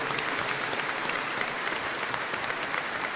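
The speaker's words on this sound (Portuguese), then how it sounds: "Então bate uma salva de palmas para Jesus" A congregation at a Catholic Sunday Mass applauds, a steady wash of many hands clapping together that stays even and moderately loud for the whole stretch, with no voices on top.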